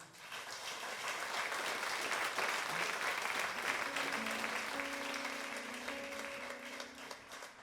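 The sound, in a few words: concert audience applause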